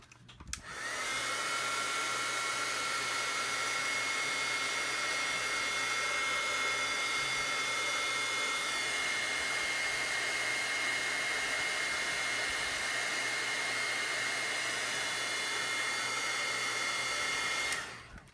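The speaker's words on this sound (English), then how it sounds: "you can hit this with your heat tool" A heat tool blowing hot air over craft paper to dry it, a steady loud whirring hiss that runs unbroken for about seventeen seconds before cutting off.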